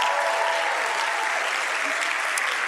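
A church congregation bursts into steady, dense applause that fills the room evenly throughout, with a faint murmur of voices beneath the clapping.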